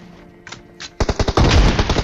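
Gunfire in the PUBG Mobile game: a couple of faint distant shots, then a loud, close burst of rapid automatic fire with heavy rhythmic cracks and no talking.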